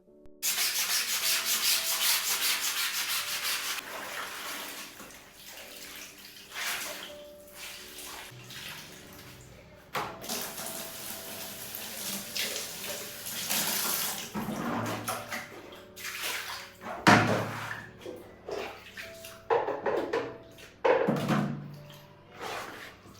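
Clothes washed by hand at home, with repeated wet scrubbing and rubbing strokes, water splashes and sloshing in bursts, close and moderately loud.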